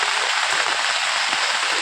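Steady rain falls with a dense, even hiss of drops on surfaces, continuous and fairly loud throughout, with no voices.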